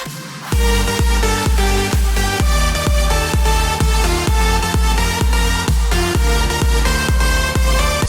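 Progressive house drop produced in Logic Pro X, a pounding four-on-the-floor kick under dense synth chords with a pumping sidechain feel, loud and continuous after a brief quieter lead-in.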